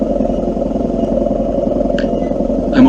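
Yamaha 600 XT motorcycle riding through Lille streets, a loud steady single-cylinder engine drone with a brief clatter near the end.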